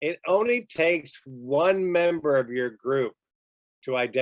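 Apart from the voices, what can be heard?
No distinct noise like a dog, phone or traffic.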